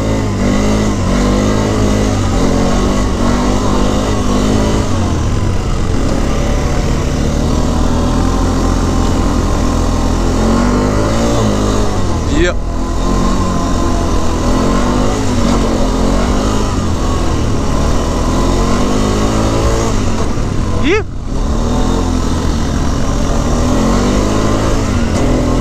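A quad ATV engine runs loud and close while being ridden in Idaho, with a continuous buzzing drone that rises and falls as the throttle is worked, briefly dipping twice, with no talking.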